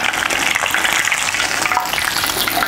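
Arancini, fried risotto balls, sizzling steadily in hot oil in a test kitchen, a dense crackling hiss that stays loud and close throughout with no talking over it.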